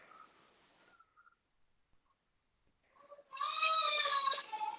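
A pet cat gives a soft, faint meow, then after a short silence a louder, drawn-out, close meow in a quiet indoor room.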